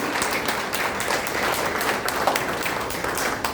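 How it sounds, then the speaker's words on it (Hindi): Sustained audience applause at an Arya Samaj children's presentation, a steady dense patter of many hands clapping with a few sharper claps standing out. "उनके परिश्रम के लिए आचार्य जी के लिए भी तालियां बजेंगी"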